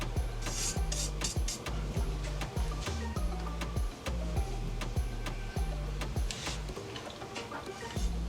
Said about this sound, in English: I decided to refine my sanding process with my hand files